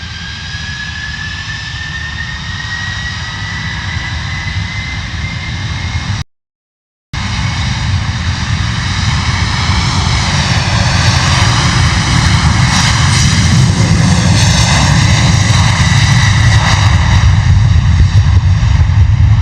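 A DHL Airbus A300 cargo jet takes off at London Luton Airport in wet, windy weather, its loud engine roar holding steady and building slightly, with a rising whine and no talk.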